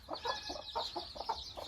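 Local chickens cluck in a room of a home poultry setup, a quick series of short, close clucks in an irregular rhythm, with no talking.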